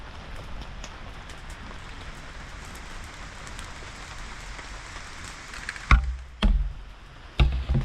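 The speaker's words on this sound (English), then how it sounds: "But listen to the rain, man." Steady, dense heavy rain hisses continuously in a woodland camp beside a bonfire, with a few sharp knocks and thumps close by near the end.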